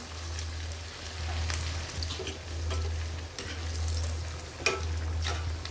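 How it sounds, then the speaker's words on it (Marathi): Stuffed chili fritters (mirchi vada) coated in besan batter deep-fry in hot oil, giving a steady, close, crackling sizzle with a few sharper pops over a low hum. No one speaks. "आता आपण मिरची वडा तळून घेऊ."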